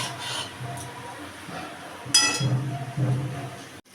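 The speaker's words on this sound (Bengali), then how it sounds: "এই সব কিছু দিয়ে এবার নাড়াচাড়া করছি" Taro stem greens seasoned with turmeric being stirred in a cooking pan, with a spoon scraping and clinking against the metal in a few uneven strokes, close and moderately loud.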